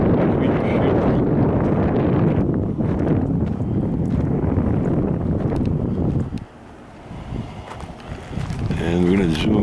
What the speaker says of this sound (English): Wind's been blowing pretty bad today. The trees are bending.